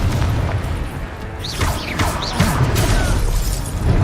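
A Confringo fire spell blasts during combat in Hogwarts Legacy: a booming, crackling burst with shattering debris and swooshing effects over a continuous, dense game soundscape.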